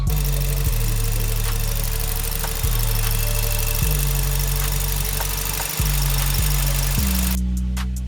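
A Volkswagen Golf 5 with a 1.6 FSI petrol engine runs steadily and loudly up close, its low drone shifting pitch in a few distinct steps before a brief ticking change at the end.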